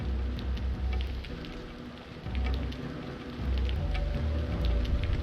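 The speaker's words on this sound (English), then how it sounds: "for the Hellhounds being in the rain like this" Steady rain pours in the video game Aidyn Chronicles, a continuous broad hiss with a low rumbling undertone and no talk over it.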